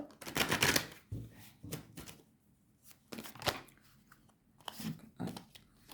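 Tarot cards being shuffled and laid out on a table, a series of short crisp flicks, slaps and rustles in irregular bursts with quiet gaps, close and fairly soft.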